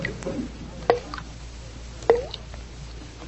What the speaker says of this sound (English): I'm sure the faucet is dripping